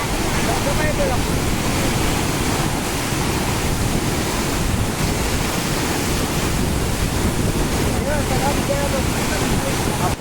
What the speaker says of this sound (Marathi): भीमकाय धबधबा.